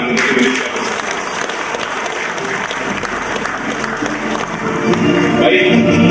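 Audience applause during a religious lecture in Indonesia, loud continuous clapping from a crowd that swells slightly near the end.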